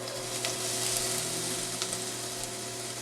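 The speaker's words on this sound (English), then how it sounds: "They're starting to sizzle a little bit." Onions sizzle steadily in a hot pot for pumpkin soup, a constant crackling hiss with occasional louder pops and a faint background hum.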